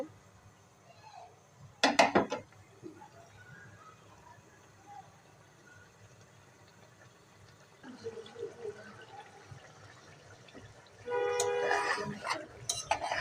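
Chicken pieces being sautéed and stirred in a pan for a home-style curry. Mostly quiet, with a short burst of scraping and clattering near the start and louder stirring scrapes toward the end.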